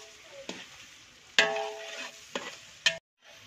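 Ingredients for biryani are sautéed with salt in a pan, giving a steady close sizzle broken by several sharp scraping stirs of a utensil against the pan.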